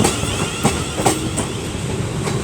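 A passenger train headed by locomotive 35237 rolls past at Crewe, a loud, close rumble with rhythmic clickety-clack of wheels over rail joints for the whole stretch.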